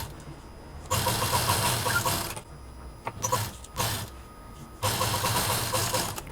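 A domestic sewing machine stitches along the side of a quilted fabric hand purse made from scrap quilted pieces, running in three whirring, mechanical bursts separated by short pauses.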